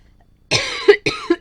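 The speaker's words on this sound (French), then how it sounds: "Horrible quand je me mets à tousser comme ça." Two sharp, close coughs come in quick succession out of silence, each ending with a throaty voiced catch.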